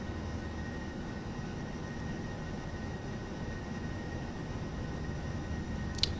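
A Ryanair Boeing 737 in a PMDG flight simulator holds steady takeoff power, a faint, even engine drone with a steady whine, continuous and without talk, ending in a brief click.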